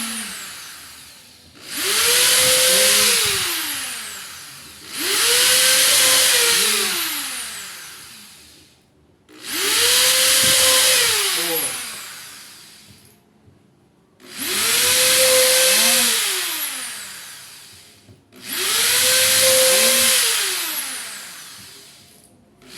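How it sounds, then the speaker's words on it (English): A power drill pre-drills holes in wood for a tool box, whining up in five separate bursts of about three seconds each with short pauses between, close and loud with no talk. "So I'm going to go ahead and pre-drill my holes."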